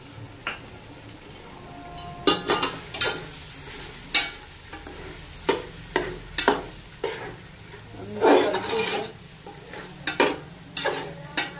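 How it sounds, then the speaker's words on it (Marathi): Soya biryani masala with yogurt is sautéed in a pan, with a low background sizzle and a spoon repeatedly scraping and knocking against the pan in irregular, close strokes. "साधारण 1 ते 2 मिनिटं याला आपण परतून घ्यायचं आहे."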